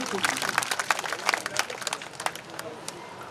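An audience at a community student felicitation gathering breaks into dense, lively clapping for a diploma recipient, crisp hand claps fading gradually over a few seconds.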